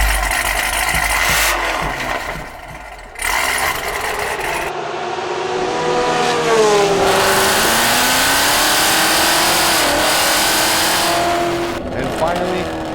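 A modified 800 hp Cadillac CTS-V with a big cam, meth injection, long-tube headers and a Corsa Xtreme exhaust revs loudly, rising and falling through aggressive throttle blips after a brief noisy start.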